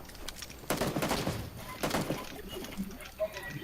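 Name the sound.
gunfire in PUBG (Battlegrounds) video game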